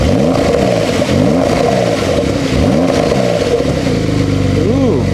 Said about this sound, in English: Now, driver in the car, can you please rev the car in normal mode?